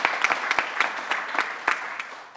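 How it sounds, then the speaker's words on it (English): Applause from an audience at a Maryland governor's announcement on college affordability, sparse individual claps building into scattered, moderately loud clapping that thins out toward the end. "That's worth clapping"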